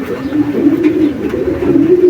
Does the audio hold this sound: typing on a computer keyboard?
no